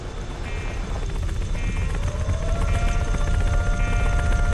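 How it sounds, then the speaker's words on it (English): A helicopter in the Roblox game Car Crushers 2 arrives with a steady, loud rotor thrum and engine whine that builds slightly over a few seconds, alone without talk. "because the helicopter has arrived"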